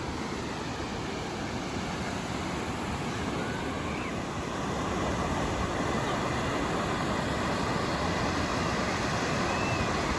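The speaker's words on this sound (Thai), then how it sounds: "นี่คือชั้นแรกนะครับผมของน้ำตกถ้ำพระนะครับ" Water rushes steadily down the first tier of Tham Phra waterfall in Bueng Kan province, Thailand, a dense, unbroken roar with no voices over it.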